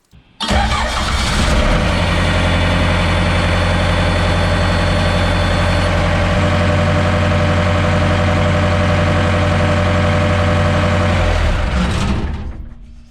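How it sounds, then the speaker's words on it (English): A Case 1845c skid steer's diesel engine cranks, catches and runs after a drive spool seal repair, a loud, close, steady low rumble that holds for about eleven seconds before shutting down. "Now it's time to start the machine and check for leaks."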